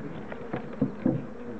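Honey bees at a hive in Cockington Apiary, producing a soft, steady buzzing drone with a couple of brief louder swells, close by and with no talking.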